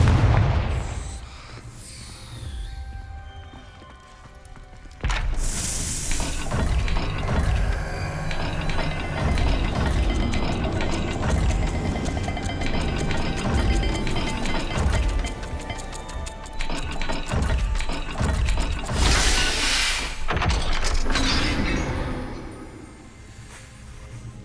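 Stone puzzle dial grinding and clicking as it turns in Hogwarts Legacy, a loud ratcheting, rumbling mechanism with heavy thuds and bursts through most of the stretch.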